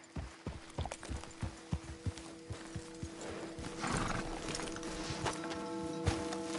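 Horses in Red Dead Redemption 2 walk with steady clip-clop hoofbeats and let out a whinny midway, close and clear, with no talk over them.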